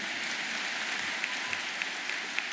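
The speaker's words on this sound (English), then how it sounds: "you can clap if you want" Audience applause at a high school Class of 2023 commencement ceremony: an even, continuous wash of clapping from a large crowd, heard from some distance with no voices.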